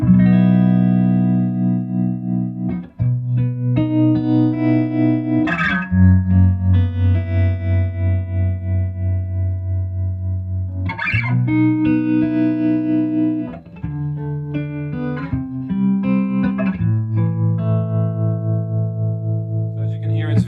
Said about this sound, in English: If you add some tremolo,